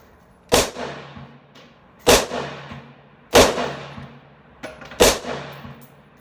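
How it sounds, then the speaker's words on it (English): Ruger Mini 14 rifle firing .223 Federal American Eagle rounds at a shooting range, four sharp loud shots at steady intervals of roughly one and a half seconds, each trailing off in a short echo. "I'm going to go ahead and put some rounds down range with this, and we'll see how she functions."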